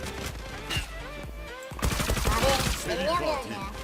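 Rapid bursts of gunfire in the online shooter Zula, dense crackling volleys that grow louder and busier midway, with a voice talking faintly beneath.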